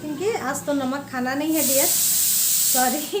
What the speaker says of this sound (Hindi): कुकर आवाज़ कर रही है